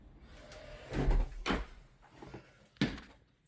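A massive front door on a c.1893 stone house in St. Louis, hung on large ornate hinges, swings open with a few wooden knocks and thumps, close by, followed by a sharper bump as it settles.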